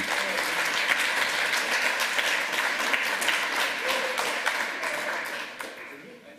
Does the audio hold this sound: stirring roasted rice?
no